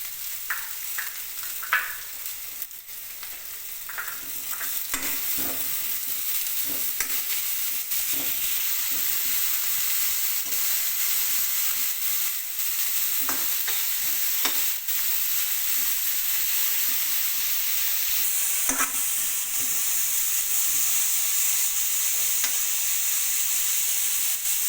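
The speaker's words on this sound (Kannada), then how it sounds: "ಎಲ್ಲನೂ ಹಾಕಿ ಫ್ರೈ ಮಾಡಿ." Beans, carrot and cabbage stir-frying for veg fried rice, a long steady hiss of oil with scattered spatula scrapes and taps against the pan, close and unbroken.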